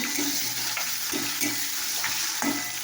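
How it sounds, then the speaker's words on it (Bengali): Fish frying in hot oil in a pan, a steady close sizzle broken by a few soft scraping stirs at roughly one-second intervals, with no voices. "তেলটা আবার দিয়ে দেবো একটু নেড়ে"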